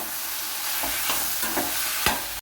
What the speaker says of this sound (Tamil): நல்லா வதக்கிட்டு இருக்கிறேங்க தக்காளி சட்னி